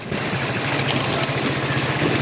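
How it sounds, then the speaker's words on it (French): Motorcycle engine on a ride toward Johannesburg chugs in a steady, close, loud rumble with rapid rhythmic pulsing and broadband wind noise, no talking. "En route pour Johannesburg, nous prenons place à bord d'une moto."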